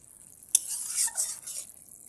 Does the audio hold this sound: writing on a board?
no